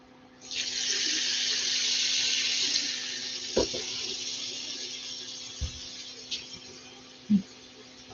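Faucet turned on briefly to add a touch of water, a bright hissing stream that runs for a couple of seconds and then fades, followed by scattered clunks and small knocks.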